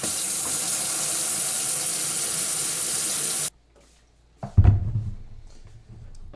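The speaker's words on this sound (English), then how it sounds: "I'm going to go ahead and put some water in it" Tap water rushes steadily into a Hydroblu pressurized jerry can water filter for about three and a half seconds, then cuts off. A short pause follows, then a few loud clunks and handling noises.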